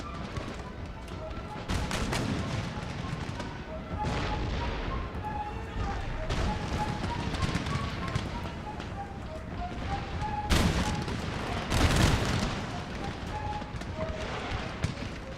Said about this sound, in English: I'm not sure why my howitzer is having such a hard time taking out this artillery